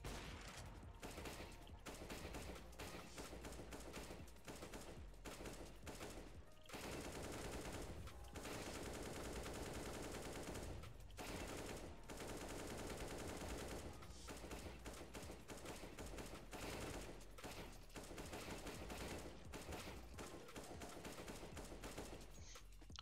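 Rapid automatic AK rifle fire in the Counter-Strike video game, loud sustained bursts with only brief gaps, heard alone with no talking.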